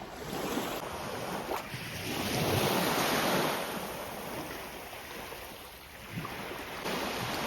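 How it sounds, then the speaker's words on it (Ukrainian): Calm Black Sea waves at a beach near Chornomorsk wash ashore in slow swells, rising and falling under steady wind buffeting the microphone, with no one talking. "Море сьогодні спокійне."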